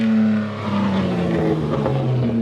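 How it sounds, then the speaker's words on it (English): A BMW car engine revs and drones nearby, its pitch wavering up and down in a rough, continuous roar. "All you can hear is some, shitty bimmer engine making a lot of racket"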